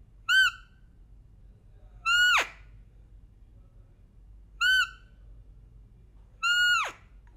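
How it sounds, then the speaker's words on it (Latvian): Four sharp, high whistled calls from a roe deer hunting call, each a short rising-then-falling squeal, spaced a couple of seconds apart over a quiet, low hum. "Skaņa butulo svilpē izklausās apmēram tā."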